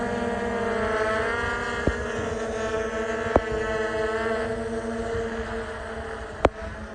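A repaired GoPro Karma drone carrying a Hero 7 Black flies nearby, its propellers making a steady tonal whine that holds level throughout, with a few sharp clicks.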